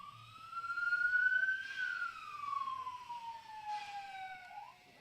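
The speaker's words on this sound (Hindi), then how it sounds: "जिसे मास्टर सायरन बजाना" A wailing siren sounded at a cricket match final in Boisar, sweeping slowly up and down in pitch, moderately loud and steady, with faint traffic noise beneath.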